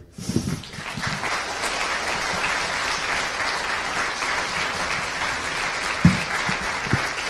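Sustained, even applause fills a hall at an 'I Am An American' community event in Des Moines after a personal story is shared, with a few louder thumps near the end.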